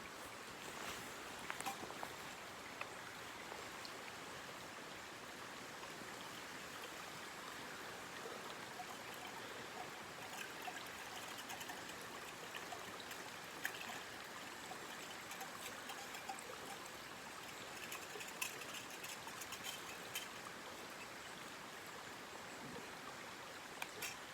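A stream in the Berwyn hills runs in a steady, faint trickle and babble that continues without a break, with no talking over it.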